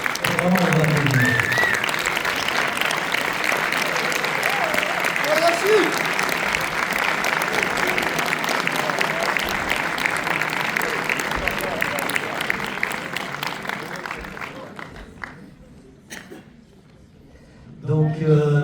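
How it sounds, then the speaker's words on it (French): A cinema crowd at a premiere screening at UGC Ciné Cité Bercy claps for the film's actors, a loud continuous burst that gradually dies away, briefly falling quiet before a voice begins speaking. "Vraiment, on va applaudir"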